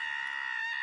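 A recording of a screaming goat plays: one short, sustained, piercing bleat-like scream, loud and steady throughout.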